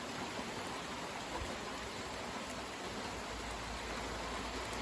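A strong downpour falls without pause, producing a thick broadband wash of rain with a muffled low-end thud, steady and close, with no one speaking.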